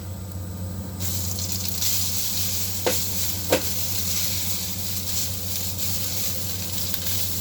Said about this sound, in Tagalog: So, gisa lang ako ng bawang, guys.